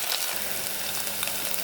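Ginger garlic paste stirred and frying with browned onions in a pan for homemade kadai paneer, a steady close sizzle with soft scraping throughout.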